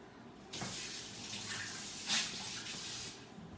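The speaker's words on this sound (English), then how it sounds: "I'm going to just empty this in the sink" Drained belly fluid from a chicken with ascites is emptied from a syringe into a sink, a soft steady pour of liquid with a brief stronger splash, faint and close, no talk.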